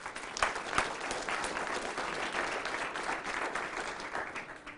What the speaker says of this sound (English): I'm giving a round of applause if you don't mind.